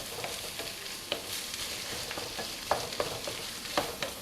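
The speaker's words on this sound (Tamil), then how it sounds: "கடைசியாக நான் வந்து கொஞ்சம் தேங்காய் பூ தூவி ஒரு மிக்ஸ் பண்ணிவிட்டு ஸ்டவ் ஆஃப் பண்ணிட போகிறேன்." Sundal with grated coconut sprinkled over it being stirred in a pan for Krishna Jayanthi, soft scraping and light sizzle with sharp spoon-on-pan taps scattered through, close and steady, no talking.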